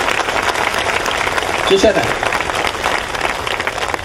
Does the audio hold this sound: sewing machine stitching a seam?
no